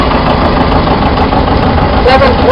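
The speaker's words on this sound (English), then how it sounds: "that is Rachel Bolton's 1958 720 John Deere. He's pulling a big bench behind that." A 1958 John Deere 720 tractor engine chugging steadily at an outdoor harvest reunion show, loud and close, with a voice speaking over the running engine.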